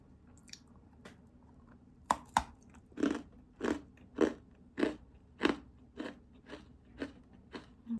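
Nacho cheese chips crunching with repeated close, sharp bites, about a dozen loud crunches in a steady rhythm, with no talking.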